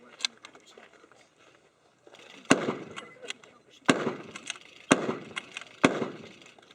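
A WWII M1903 Springfield bolt-action rifle fires blanks at an outdoor reenactment, with four loud, sharp reports spaced about a second apart and metallic bolt clatter between them. Faint voices and rustling come before the first shot.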